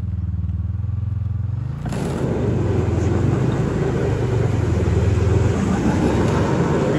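A tractor rumbles and clatters as it drives and maneuvers near a track in winter, its low engine drone shifting partway through into a louder, rougher churning close by, with no talk over it.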